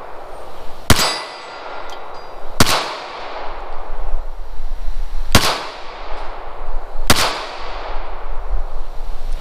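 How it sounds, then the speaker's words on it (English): Four sharp, loud shots from a Ruger LCP II pistol fired at a target, spaced irregularly a second or two apart, each with a ringing decay in an open setting. "Let's give it a shot and see if it actually fires."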